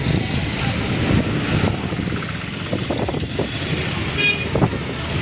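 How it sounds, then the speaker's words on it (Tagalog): Dense traffic jam in Divisoria, Manila, with cars, trucks and motorcycles crowded together, a steady rumble of engines and scattered horn toots, some voices mixed in the street noise. "Papakita ko sa inyo yung mga sasakyan naman na nagkakabuhol-buhol dito."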